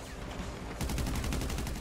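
Rapid gunfire in Grand Theft Auto Online, a quiet stretch giving way to a fast rattling burst of repeated shots, fairly close and steady.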